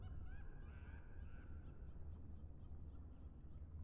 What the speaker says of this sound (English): It's just a bird.